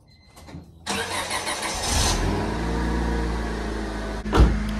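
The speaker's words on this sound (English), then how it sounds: "let's go ahead and give this a nice little cold start." A Honda Civic EK engine cold starts after a quiet moment, the starter catching and the engine settling into a loud, steady idle close by, with a brief rev near the end.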